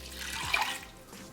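A short burst of water pouring into a pressure cooker over washed chana dal, a brief splashing rush that swells and fades within about a second, close by.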